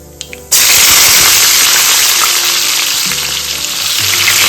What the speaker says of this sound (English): The oil is hot now. Add some mustard seed and let it crack.